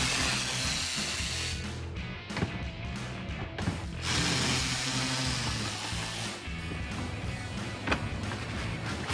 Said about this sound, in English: you're going to want to remove these 2 screws, 7mm